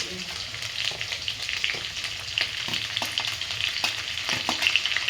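Garlic, ginger and green chillies fry in hot panch phoron oil for a Bengali mixed vegetable dish, producing a busy, crackling sizzle with frequent spatters and stirring scrapes, close and continuous.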